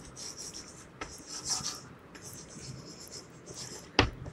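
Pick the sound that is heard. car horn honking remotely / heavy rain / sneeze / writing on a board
writing on a board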